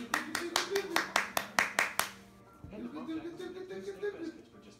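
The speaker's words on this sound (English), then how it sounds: "Clap for Dad." A child claps their hands about ten times in a quick, somewhat uneven run of sharp, close claps, then stops as people talk in a home gathering at Thanksgiving.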